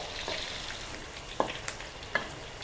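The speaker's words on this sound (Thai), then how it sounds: "ต้องทอดให้ออก กรอบๆนะ ให้เหลืองเต็มที่เลย" Chicken deep frying in hot oil until crisp and golden, a soft continuous bubbling sizzle with a few brief louder pops and stirring knocks.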